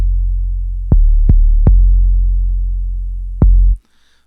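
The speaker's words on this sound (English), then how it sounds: "Okay, so we have an 808." Deep 808 bass drum hits built in the Xpand2 software instrument, four booming strikes with long sustained low tails, three close together and one later, before an abrupt cutoff.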